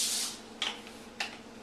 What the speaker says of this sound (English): start out by spraying it with some Pam, just so the tortillas don't stick to the pan